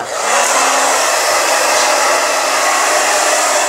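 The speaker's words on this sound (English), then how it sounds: "Let me blow dry this off of you." Hair dryer blowing steadily after a brush cut at a barbershop, a loud, continuous airy roar with a faint motor whine, running alone for several seconds.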